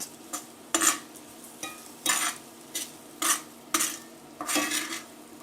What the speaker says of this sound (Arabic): نشوح البصل كده شويه